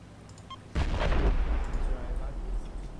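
A heavy grenade-style explosion in a combat video game, one sudden deep blast that rumbles and fades over a couple of seconds, with faint game sounds before it.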